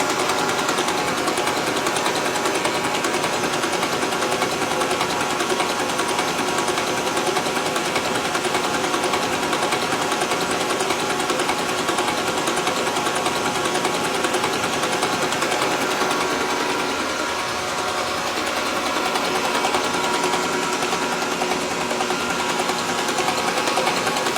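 A diesel engine fitted with an upgraded P7100 injection pump in a Monaco Dynasty motorhome cranks continuously, a loud rapid mechanical churning that carries on steadily with a brief dip partway through.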